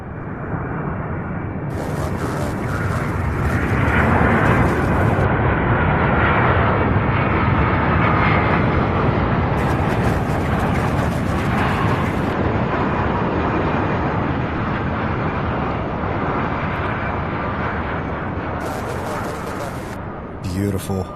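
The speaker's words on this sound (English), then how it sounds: "MD-11 arriving here from Oakland, California." MD-11 arriving from Oakland, California at Louisville's UPS Worldport, a loud, rolling jet roar that swells and holds for about twenty seconds, with bursts of crackly radio chatter over it.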